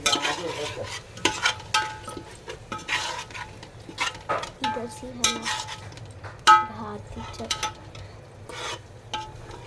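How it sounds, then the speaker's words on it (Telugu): A spoon stirs coriander powder into chicken biryani masala in a metal pot, giving repeated scraping clinks against the pan over a low sizzle, close and moderately loud. "ఇప్పుడు కలుపుకుందాం."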